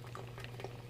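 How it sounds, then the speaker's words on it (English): Tiny, violent bubbles fizz from an electrode in an electrolyte solution during contact glow discharge electrolysis, making a brief, faint, continuous bubbling hiss. "that's smaller bubbles coming out now. But those tiny bubbles that are coming out are pretty violent."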